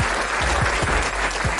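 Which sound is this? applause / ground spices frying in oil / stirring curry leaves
applause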